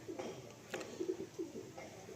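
Kalanka pigeons cooing in a home loft, several soft repeated coos in short bursts, faint and close.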